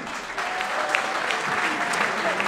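Fight audience applauding a world champion in the 75 kg class, a brief burst of dense, even clapping from a crowd, moderately loud and steady throughout.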